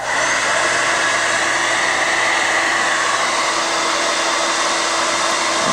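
A Conair hair dryer runs close by with a steady, loud whooshing hum that holds constant for the whole stretch.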